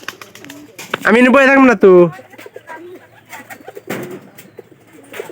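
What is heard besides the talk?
pigeons cooing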